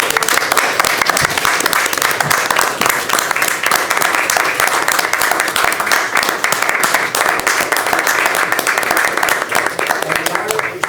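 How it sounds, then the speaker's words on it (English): Sustained, loud applause from the audience at a board of education meeting, a dense, even wash of clapping that continues for about ten seconds. "I think we need one last round of applause for Todd Gray."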